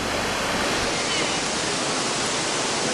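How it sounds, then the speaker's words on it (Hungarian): A waterfall of warm, sulphurous water in Dominica pours in a dense, constant roar of rushing water, loud and close, filling the whole moment without a break. "A két ág közül ez a baloldali vizesés, ez a meleg víz"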